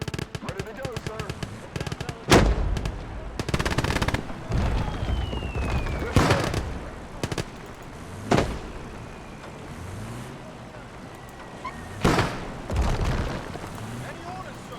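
Bursts of automatic gunfire and heavy explosions ring out in a Kelly's Heroes war battle game, loud staccato volleys with booming impacts spaced a few seconds apart.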